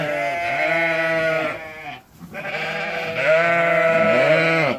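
Sheep in a lambing shed bleating loudly and close, two long wavering calls separated by a short pause, the second call rising and stretching to the end with no voices over it.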